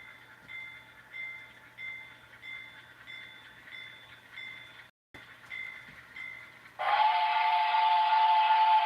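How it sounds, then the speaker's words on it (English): A model railway steam locomotive whistle sounds in a repeating rhythm of short toots, then a long, loud steady whistle blast takes over. "steam engine came out of nowhere"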